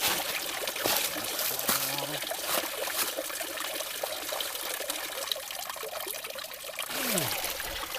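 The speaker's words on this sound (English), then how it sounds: "Cold water. It's coming right off the mountain." Cold mountain stream water pours and trickles close by in a steady flow in deep woods, with brief scooping clunks and faint background voices.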